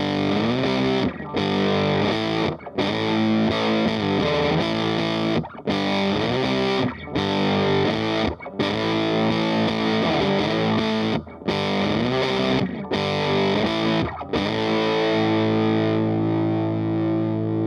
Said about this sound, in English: if I push that gain a little bit more, you start to hear that classic, crunchy rhythm sound